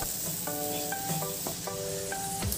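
Kashmiri chili powder and black masala sizzling steadily in hot oil in a pan while being sautéed for a mutton dish, with a few faint tonal beeps over the frying hiss.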